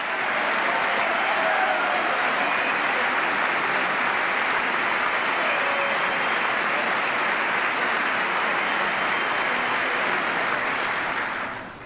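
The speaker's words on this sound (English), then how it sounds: "I thought I'd get some applause on that one." Sustained applause from a large crowd at the 2010 State of the Union address, steady and dense clapping filling the whole stretch before tapering slightly at the end.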